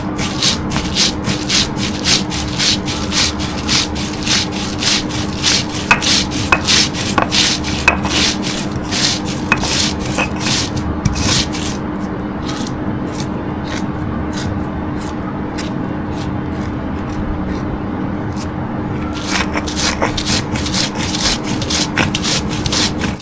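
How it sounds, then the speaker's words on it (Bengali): Mola fish heads ground on a shil-pata grinding stone, a steady rough scraping with repeated rhythmic strokes of stone on stone, close and continuous for over twenty seconds, with no talk. "এখন আমি এই শিলপাটায় বেটে নেব"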